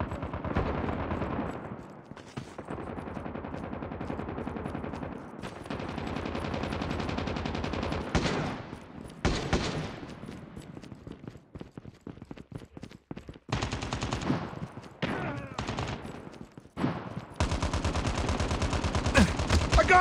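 Call of Duty gunfire, dense bursts of automatic weapon fire and blasts in heavy sustained volleys with short gaps, loud and close throughout.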